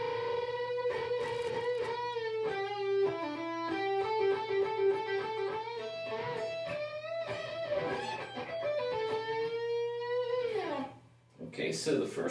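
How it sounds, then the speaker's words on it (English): An electric guitar solo from a song rings out in sustained, bending lead notes over a steady low hum, ending with a long downward slide into a brief burst of noise. "guitar solo sounds like this"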